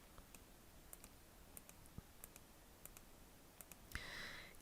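A computer mouse clicks on stars in a Cricut design program, a dozen or so sharp, quiet, irregularly spaced clicks over a faint background hum, then a brief brighter scrape near the end.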